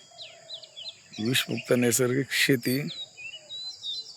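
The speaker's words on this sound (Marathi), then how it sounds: "आता आवाज येतोय तुम्हाला पक्ष्यांचा, हे बघा किलबिलाट." Birds chirp and twitter on a natural farm in the morning, with scattered short calls at the start and end while someone speaks loudly over the middle.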